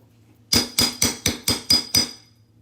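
Seven sharp, evenly spaced hammer strikes set rivets into metal bracelet blanks, close and clear against a quiet background.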